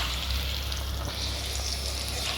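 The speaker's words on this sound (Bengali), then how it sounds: "আর এইদিকে মা এই যে ঘি করলাটা ভেজে নিচ্ছে" Bitter gourd sizzling in hot ghee, a steady close crackle and hiss of frying that runs unbroken with no talk over it.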